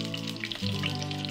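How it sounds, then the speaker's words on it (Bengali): About 15 grams of oil heats in a pan for a Bengali doi potol dish, giving a faint, soft sizzling hiss with light crackles that grows slightly louder partway through. "তেল গরম হতে দিলাম।"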